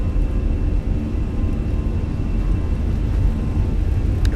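Twin jet engines of an Airbus A320 (Fenix A320, Azores Airlines) in Microsoft Flight Simulator roar steadily at takeoff power, a dense, even low rumble throughout with no voices.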